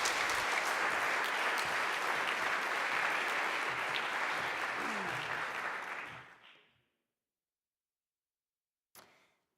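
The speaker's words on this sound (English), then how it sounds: "An applause for her too." A conference audience in Padua applauds steadily for about six seconds, dense clapping filling the hall before fading out quickly into silence, followed by a single faint click.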